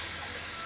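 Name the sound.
pouring boiling water over saffron strands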